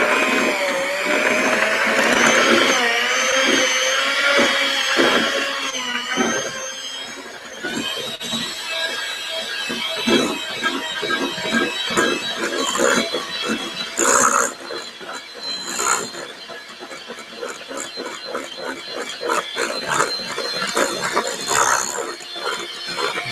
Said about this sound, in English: I got my blender, or my hand mixer rather, and I'm just gonna mix this up